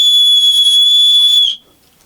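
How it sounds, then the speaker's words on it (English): A survival whistle improvised from a Swiss Army knife gives a loud, steady, piercing high tone with bright overtones. It holds for about a second and a half, then cuts off into near silence. "To use the whistle, again cover the ring on the sides with your fingers."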